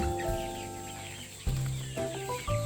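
Chickens on a free-range farm cluck in short, soft bursts from close by, with a few drawn-out calls rising and falling over a quiet background.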